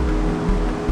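A snowmelt-swollen river at the Continental Divide Trail crossing in Colorado gives off a continuous loud rushing roar that stays even and close, with nobody speaking.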